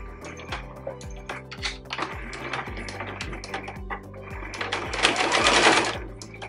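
A sewing machine runs close by in bursts, rattling rhythmically as it stitches seams on a fabric bag for a mason jar, growing busier and louder toward the end.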